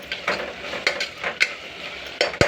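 Ginger garlic paste frying in a pan, a quiet sizzle broken by several scraping strokes and knocks of a spatula against the pan, close by with no talk.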